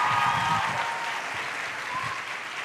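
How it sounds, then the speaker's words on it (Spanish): An audience at a university conference in Peru gives warm, dense applause to welcome a speaker, loud at first and easing slightly, continuous throughout. "muchas gracias por ese aplauso tan cariñoso"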